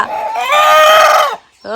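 A chicken caught for an offering at Vengamuni Swamy temple lets out a loud, close, drawn-out squawk, then a second squawk begins after a brief pause.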